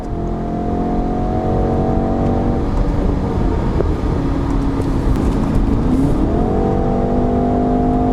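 A BMW X3 M50 engine and exhaust rev loudly and steadily throughout, with harmonic engine tones holding, dipping midway, then rising again as the revs climb, close and alone with no talking.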